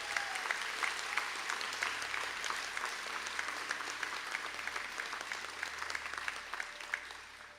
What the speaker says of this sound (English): I ask all graduates of Performing Arts to stand up for a round of applause.